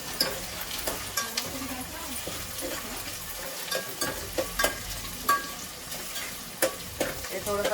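Bay leaves fry in hot oil with a low, steady sizzle, punctuated by light taps and scrapes of a spoon against the pan at irregular intervals, fairly faint and close.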